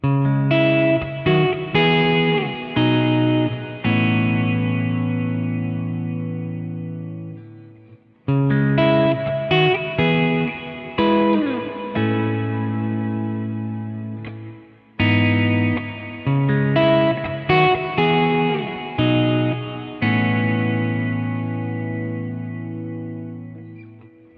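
Electric guitar phrases played through a Boss RV-200 reverb pedal, chords and notes ringing out into long washy tails, repeated in three passages, loud and close.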